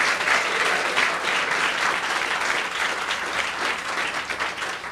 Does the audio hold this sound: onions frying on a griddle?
no